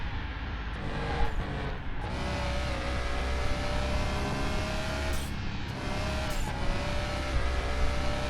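A car lapping a race track in a driving game, steady engine drone with shifting pitch and occasional tire noise, continuous and moderately loud, no talk.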